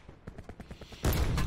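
Call of Duty: Blackout gunfire: a quick string of sharp, rapid shots for about a second, then a louder, dense burst of fire that fills the rest of the moment.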